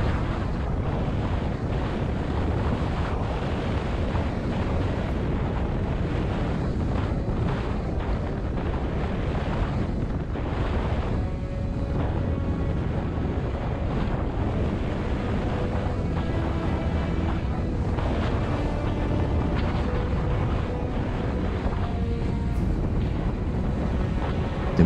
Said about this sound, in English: The wind was howling, the waves pushed the boat violently against the jetty.